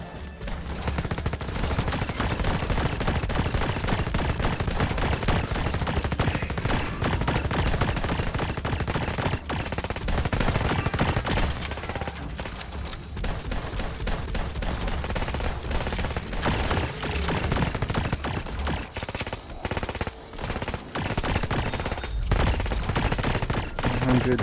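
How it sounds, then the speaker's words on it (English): Gunfire from the breach shotgun in the video game Red Solstice 2, a dense, loud barrage of repeated blasts and rapid shots layered with other weapons firing continuously throughout, with no clear talk. "we have a breach shotgun"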